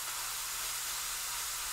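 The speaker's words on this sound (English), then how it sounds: "It's really sizzling." Chicken pieces frying golden brown in a hot pan for Thai coconut curry give a steady, close hiss of sizzling fat, continuous and even throughout with no talk over it.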